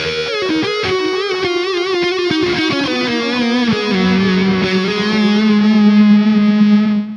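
A distorted electric guitar lead tone from an Enya Inspire Pro plays a sustained line with bends and held notes, loud and continuous with no voices.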